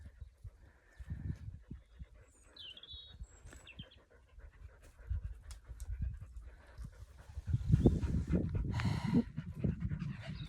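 Dogs panting outdoors on a quiet day in open country, a steady breathy rhythm close by that grows louder and more continuous toward the end, with faint birdsong, likely skylarks, overhead.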